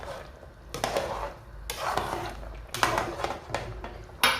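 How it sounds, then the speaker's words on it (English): A pot of draw soup with palm oil being stirred, with intermittent scraping and knocking of a spoon against the pot in short bursts, close and moderately quiet. "So I've added my palm oil now. I will stir my pot again."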